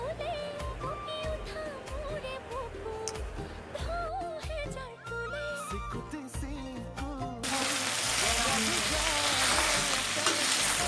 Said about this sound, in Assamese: মই মাংসখিনি সিজাই ল'ম।